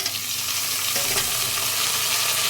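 Chopped onion and tomato frying in a pan for sambar, stirred with a steady, close sizzle that runs continuously with no talking.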